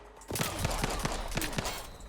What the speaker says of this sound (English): I just got shot once and it almost killed me